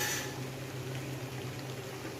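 Butter bubbling in a pot on the stove while being cooked down into ghee, a continuous soft boiling fizz with a low steady hum underneath, fairly close, no voices.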